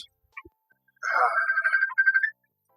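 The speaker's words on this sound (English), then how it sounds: "Sorry about the phone ringing, folks." A phone rings in a room during a live stream, a short warbling electronic ringtone burst that starts after a couple of soft taps, rings for about a second, pauses briefly, then rings once more before stopping.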